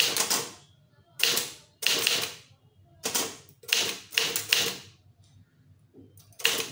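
Manual Tamil typewriter clacking out an official secretariat letter in bursts of rapid keystrokes with short pauses between groups, close and crisp, without talk.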